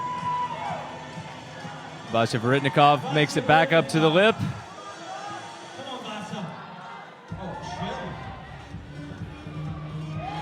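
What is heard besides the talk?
crowd cheering at a bouldering championship final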